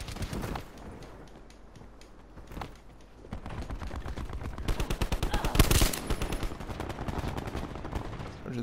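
Gunfire in the shooter Call of Duty: Black Ops 4, with rapid automatic bursts that grow dense and loud in the second half, one sharp heavy blast standing out, over a steady game ambience.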